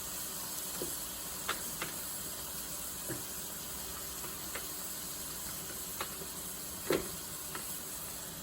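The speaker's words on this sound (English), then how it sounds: "I do want the broccoli to start steaming." Broccoli steaming in a pan with a little water gives a faint, steady hiss and sizzle, with a few soft pops and crackles scattered through the quiet background.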